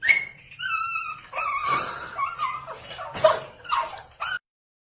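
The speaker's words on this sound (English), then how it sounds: "Puppy!" A puppy whimpers and yips in high, wavering cries with a few short barks, close and fairly loud, in a steady run of sounds that stops abruptly.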